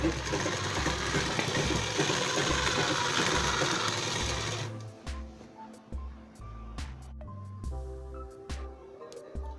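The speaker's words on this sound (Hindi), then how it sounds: "अब यहाँ पे हम एक बैठी सिलाई लगा देंगे ऐसे।" A sewing machine runs a long continuous burst while stitching a midi dress, then stops and starts in short runs with soft handling clicks and rustles of fabric between them.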